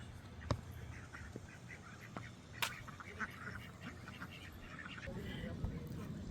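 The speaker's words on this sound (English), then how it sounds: "Some nice ducks over there." Ducks at a ranch with landscaped grounds quack in a loose scattered series at a moderate distance, beneath outdoor ambience and a person talking.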